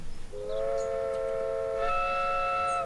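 Train in the video game Transport Fever 2: a steady tonal horn or whistle blast, moderately loud and sustained for a couple of seconds, with a slight rise in pitch midway.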